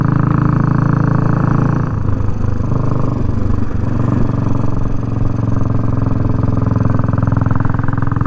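A Royal Enfield 350 Bullet motorcycle engine thrums steadily while riding down a road, a continuous low, close drone with no pauses.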